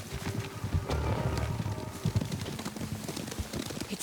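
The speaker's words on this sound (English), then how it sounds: "Horses, they're coming for us." Horses approach in the samurai video game Ghost of Tsushima, a dense, continuous rumble of galloping hooves that stays steady and fairly loud for several seconds with no talk over it.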